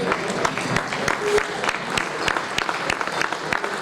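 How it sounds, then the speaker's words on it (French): A crowd claps steadily for Jean-Baptiste Luc at a Peña Taurine Mugron anniversary event, with sharp individual claps standing out through dense, continuous applause. "Il faut l'applaudir, bien sûr."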